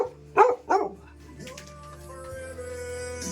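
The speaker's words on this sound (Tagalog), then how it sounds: "Laking aso oh." A big dog on a mountain outing gives two loud, close barks in quick succession, then falls quiet over a low steady background hum.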